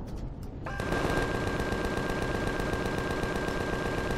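Drone base turrets in the video game Empyrion open fire, a rapid, continuous machine-gun burst that starts after a brief lull and hammers on loudly without pause.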